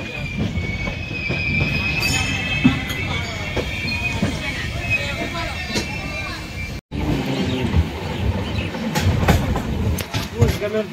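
A train pulls into a station in Old Delhi, with a steady rumble of wheels and carriages, squealing brakes and clattering, and voices talking over the noise throughout.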